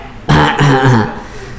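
A male lecturer clears his throat loudly and close to the microphone in two or three voiced bursts, a deliberate 'ahem' lasting under a second.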